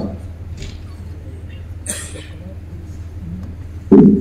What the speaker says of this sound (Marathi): थोडं खोकलाय, क्षमा करा